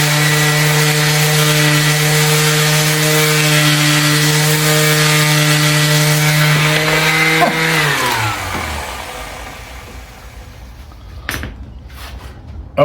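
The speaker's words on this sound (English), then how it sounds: "I think it's just going to be a nice random orbit sander. Let's give it a test" A random orbit sander runs at a loud, steady hum with a strong tonal whine, then spins down over about a second before falling quiet, followed by a few faint clicks.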